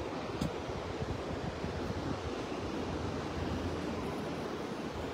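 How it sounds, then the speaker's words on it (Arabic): Sea waves rolling onto the Casablanca shore by the Hassan II Mosque, a steady broadband wash of surf mixed with wind buffeting the microphone, continuous and fairly loud with no voices. "وشوف انا حركه البحر، كاين واحد الجزر"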